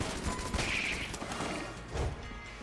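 Electric Scattershot Heck Blaster fire in Enter the Gungeon, a dense crackling stream of zapping shots running steadily with a couple of louder bursts, busy game effects around it.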